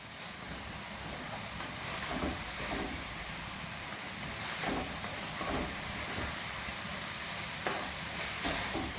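Beef and vegetables stir-fry over high heat, giving off a dense, continuous sizzling hiss with faint stirring scrapes underneath.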